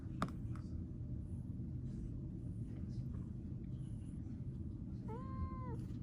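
A cat named Freya gives a short, clear meow near the end while her ears are cleaned at home, heard over a steady low background rumble with no talk.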